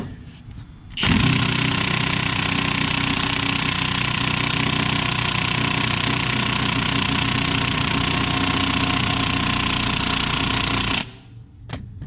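A large impact wrench rated at 1,400 foot-pounds hammers at an engine bolt on a Civic motor during a teardown, a loud, steady rattling roar lasting about ten seconds before stopping abruptly.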